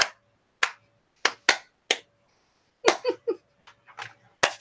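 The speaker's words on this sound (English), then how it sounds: "Oh, we get just the claps." Scattered hand claps from a small group during a live ritual, several separate sharp bursts with quiet gaps between them and a faint murmur of voices in the background.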